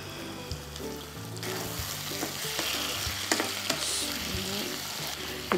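Prawns, cleaned with turmeric, sizzle and fry steadily in a pan while being stirred, with scraping stir strokes and occasional clinks over a constant close frying hiss.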